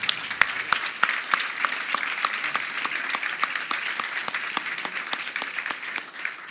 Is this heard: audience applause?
yes